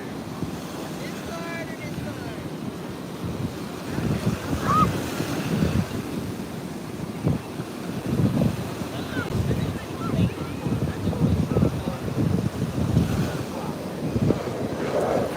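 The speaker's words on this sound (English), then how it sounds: "For me, it's just relaxing, listening to the waves." Ocean surf rolls onto a beach under steady wind, with repeated wave washes rising and falling over constant wind buffeting on the microphone and no voices.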